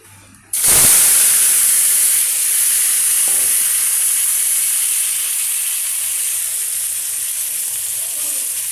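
Onion, chilli, tomato and fried prawns hit hot oil in a kadai with a sudden loud burst, then settle into a continuous close, bright sizzle and hiss that carries on steadily.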